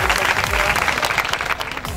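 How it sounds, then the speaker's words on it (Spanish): A crowd of a couple hundred families at an outdoor food aid handout applauds the coordinator, a loud, dense wash of clapping sustained for two seconds, with voices mixed in. "aplauso para la coordinadora"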